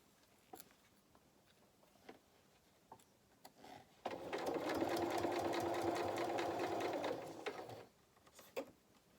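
A domestic sewing machine stitches the body of a fabric otter toy in one steady, fairly loud run of about four seconds, with quieter handling clicks and rustles of fabric before and after.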